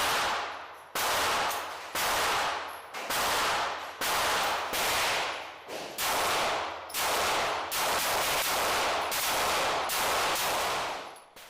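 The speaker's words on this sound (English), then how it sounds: "take a look at a little bit of shooting footage at the range" A Smith and Wesson M&P 2.0 pistol fires at a shooting range: about a dozen sharp, loud shots in a steady rhythm, each followed by a short ringing decay.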